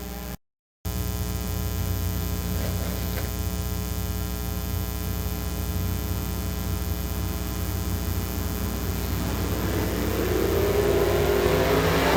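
Race cars roar around Rose Bowl Speedway in a steady, loud engine drone that swells as they accelerate toward the end, with no voices over it.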